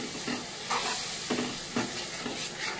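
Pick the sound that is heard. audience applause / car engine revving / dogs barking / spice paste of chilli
spice paste of chilli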